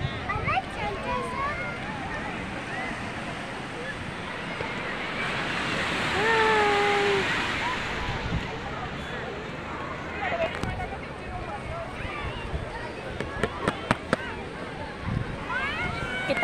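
Surf rolls continuously onto Cherai beach in Kerala, a broad steady roar of waves with wind, while family members talk and a voice rises over it, and a few sharp clatters come near the end.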